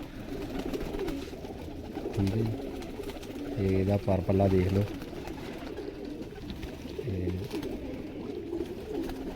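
Pigeons coo in a loft where racing pigeons are kept by a breeder, with low, repeated coos rising in a few short bursts beneath a voice talking close by.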